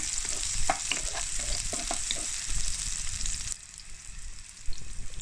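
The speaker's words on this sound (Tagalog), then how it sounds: "igisa lang natin ang sibuyas at bawang" Onion and garlic sautéing in a pan for pork afritada, a bright continuous sizzle with clicks and scrapes of a spatula, dropping to a quieter hiss partway through before another clatter, no talking.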